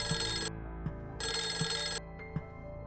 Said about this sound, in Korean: 아들의 전화 벨 소리에 제 심장이 요동쳤습니다.